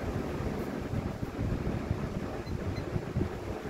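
A box fan running on high speed gives off a steady, close whooshing rush of air with no change in level throughout.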